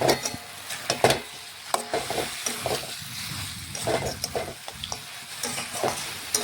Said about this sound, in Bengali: এখন আমি আগে থেকে যে আলু ভেজে রেখেছিলাম আলুগুলো দিয়ে দেব। এটাও ভালোভাবে মটনের সাথে মিশিয়ে নেব।